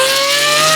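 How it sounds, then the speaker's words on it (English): A Pagani Huayra R Evo Roadster's naturally aspirated V12 holds a loud, steady high-pitched wail in a brief burst, heard alone. "This is the source of that spine-tingling sound. It's the Pagani Huayra R Evo Roadster"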